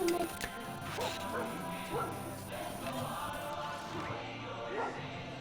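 Dog barking in the video game Far Cry 5, a few sharp barks spread across the clip amid busy game sound and crashes, moderately loud in the mix.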